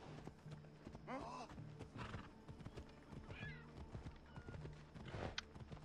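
A horse in the Assassin's Creed Odyssey video game whinnies several times amid clip-clopping hooves, the neighs rising and falling over a faint game ambience, fairly quiet overall.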